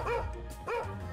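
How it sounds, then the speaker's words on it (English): A cat character in a multiplayer video game gives two short dog-like barks in quick succession, close and fairly loud against game background noise. "why are you barking as a cat?"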